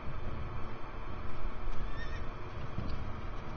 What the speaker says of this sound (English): There's like a random horse neigh that got cut off.